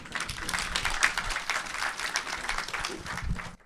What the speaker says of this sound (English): I'll allow you to clap.